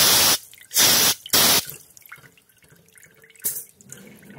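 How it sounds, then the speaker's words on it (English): Fuel draining from an old Wheel Horse tractor: three short gushing bursts of liquid pour out close by, followed by quieter dribbling and scattered drips, with one more brief splash near the end. "now I gotta let this finish draining"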